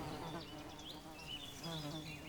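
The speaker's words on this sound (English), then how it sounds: "The bees take in water at the hog wallow." Wild honey bees buzz as they take in water at a muddy hog wallow, a faint, steady hum of many insects with wingbeats drifting close and away.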